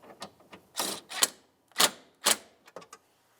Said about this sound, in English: I'll hold the nut with a wrench and snug up the bolt